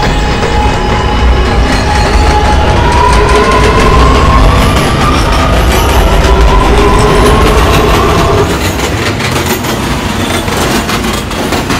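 An R211A subway train in the Transit City video game runs steadily at loud volume, with continuous rumble, rail clatter and a rising motor whine, alone without talk throughout.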